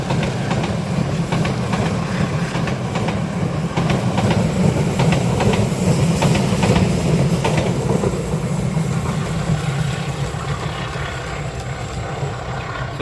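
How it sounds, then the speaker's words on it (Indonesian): The Fajar Utama Jogja passenger train from Yogyakarta rolls past the Tumiyang spot in Banyumas: a loud, steady rumble of wheels and carriages with rhythmic clickety-clack over the rails, sustained throughout with no voices. "Selamat jalan dan selamat sampai tujuan kereta api Fajar Utama Jogja"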